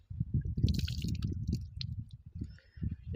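Water splashing and dripping from cupped hands while a woman washes her face during wudu, with close, irregular wet spatters and trickles throughout.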